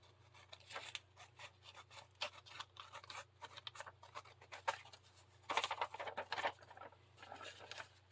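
Scissors snip around the edges of a paper tag for a handmade folio journal, with quiet irregular cuts and rustling paper, close and fairly soft, no voices.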